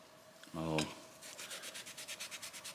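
A sanding block rasps back and forth over a rusty, pitted old hand plane in about a dozen quick, even strokes, preceded by a brief clunk. Close and fairly quiet.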